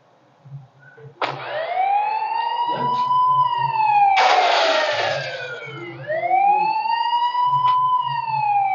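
A wailing police siren in a video game rises and falls in long sweeps, with a burst of noise midway and low pulsing engine-like thuds underneath.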